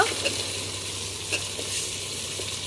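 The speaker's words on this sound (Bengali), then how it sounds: "টমেটো কুচি দিয়ে মাংসটা ভালোভাবে কষিয়ে নেব।" Meat and chopped tomatoes fry in a pan with a steady, close sizzling hiss, broken by a few soft stirring scrapes.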